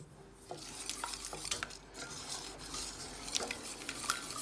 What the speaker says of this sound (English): And just literally whisking that in. Try and get rid of all those lumps.